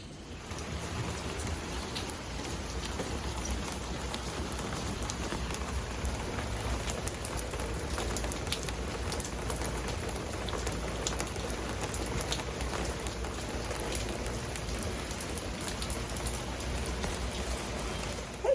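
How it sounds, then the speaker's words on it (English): Steady rain falling outdoors on a Veterans Day morning, a dense, even hiss of drops on surfaces that stays constant and fairly loud throughout with no voices. "I'm gonna give you a look at the rain first."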